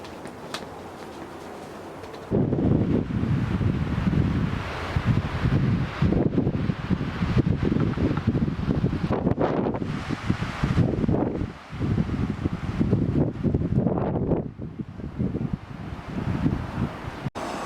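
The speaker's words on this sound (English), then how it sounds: "The storm is a-coming. There's some brief gusts here and there" Strong storm wind gusts roar and buffet the microphone at a winter tent campsite, surging loudly with brief lulls after a calmer start.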